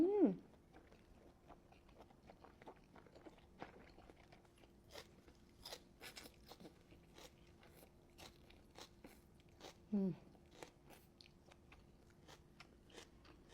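A big bite of food is taken, followed by soft, close crunchy chewing and biting sounds in irregular bursts, with brief murmured voice sounds at the start and middle.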